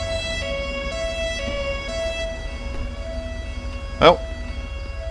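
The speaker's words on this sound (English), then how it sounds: "It's a symphony of sirens." Police sirens in GTA 5 (UK police mod) hold a steady, layered wail throughout, moderately loud and close, with one short spoken word near the end.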